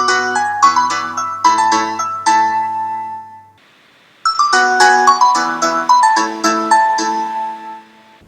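A bright, plucky Nokia mobile phone ringtone, a waltz melody, plays twice, a short pause between the two loud, clear phrases.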